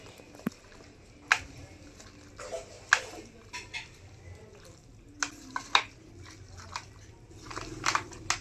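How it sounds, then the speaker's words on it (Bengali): Chicken pieces being worked by hand in a marinade of spices, mustard paste, mustard oil and a little ghee, giving close, intermittent wet squelching and sticky smacks at an uneven rhythm, with no talking. "এবারে চিকেনের সঙ্গে ভালোভাবে ম্যারিনেট করে নেব"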